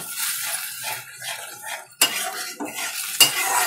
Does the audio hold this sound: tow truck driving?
no